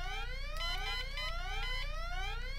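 An alarm rings in the point-and-click adventure game Deponia, with repeated rising electronic sweeps over a low hum, continuous and moderately quiet.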